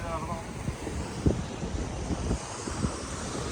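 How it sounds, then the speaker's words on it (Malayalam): Strong wind off a rough sea at a fishing harbour buffets the microphone in a continuous roar with gusty thumps, while faint surf washes underneath. "കടല് ഭയങ്കര റഫാണ്. ഭയങ്കര കാറ്റ് കാര്യങ്ങൾ."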